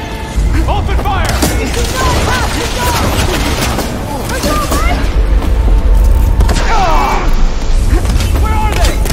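Gunfire and booming blasts from a firefight in the action video game Horizon Forbidden West rumble continuously and loudly beneath urgent shouting voices and dramatic game audio.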